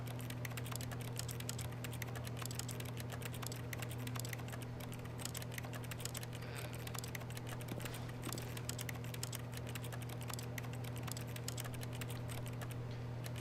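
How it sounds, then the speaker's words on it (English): Rapid, steady mouse clicking on a door in The Stanley Parable, repeated over and over in a dense, unbroken stream above a constant low electrical hum, with no voices. "You have to click it 430 times."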